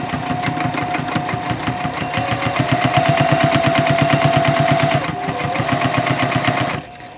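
A sewing machine runs steadily, stitching a fabric tote bag at a 3.0 stitch length with the needle about 1/8 inch from the foot edge, a rapid even needle rhythm close up and continuous, stopping near the end.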